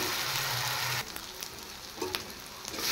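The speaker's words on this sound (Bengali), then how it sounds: "এবার আদা, রসুন আর কাঁচা লঙ্কা একটু ফ্রাই করে নেব।" Ginger, garlic and green chilli fry in hot oil, a steady bright sizzle that drops suddenly partway through, then continues softer with a few scraping stirs and spits.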